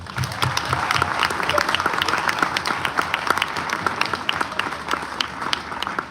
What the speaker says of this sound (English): Can we please get a huge round of applause and please rise for our active military?